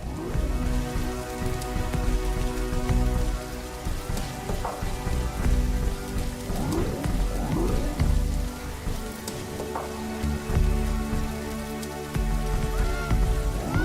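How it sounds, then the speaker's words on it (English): Rain falling in The Riftbreaker video game, a steady hiss of drops pattering on surfaces, with scattered louder splats and a low tonal bed underneath, continuous and moderately loud with no talk. "This rain is harmless to our base, but it decreases solar panel efficiency until it stops."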